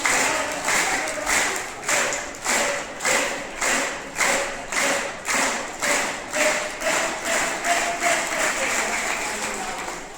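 A group of children at a school claps hands in a steady, rhythmic beat, about two claps per second, loud and sustained throughout.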